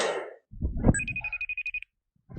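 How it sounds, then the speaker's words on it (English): Phone ringing with a rapid electronic trill of about a dozen quick pulses, loud and close, following a burst of noise and a thump, then silence. "The phone is ringing."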